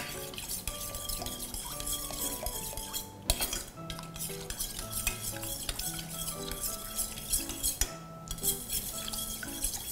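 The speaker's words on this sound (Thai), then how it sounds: "เราก็จะคนแค่ให้ตัวแป้งแล้วก็ตัวเกลือเนี่ยละลายแค่ให้เข้ากันดีนะคะ" A spoon clinks and scrapes against a pot while coconut milk sauce with flour and salt is stirred for a Thai sago dessert, with steady stirring and a soft simmer underneath and a few sharper knocks on the pan.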